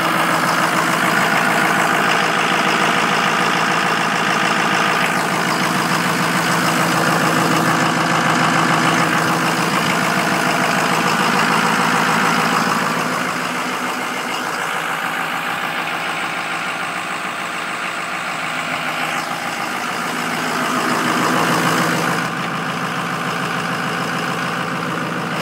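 A 2008 Ford E-450 Super Duty box truck with a turbo diesel engine idles steadily and close by, with a continuous rumbling drone that dips slightly in level partway through.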